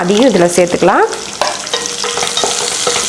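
Chopped onion sautéing in oil in a home kitchen pan, a steady sizzle with light stirring and scraping, while someone speaks over it.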